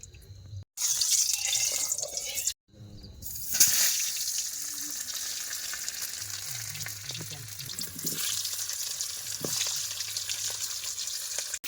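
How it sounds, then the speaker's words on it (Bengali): Potatoes fry in oil in a wok, giving a steady bright sizzling hiss broken by two short silences, with faint clatter and low background noise underneath. "এবার কড়াই তেল দিয়ে দিচ্ছি আলুগুলো ভেজে নেই"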